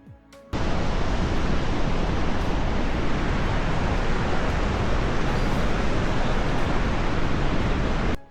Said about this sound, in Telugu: డ్యామ్ దగ్గరికి వచ్చే కొద్దీ వాటర్ ఫ్లో సౌండ్ చాలా భయంకరంగా ఉంది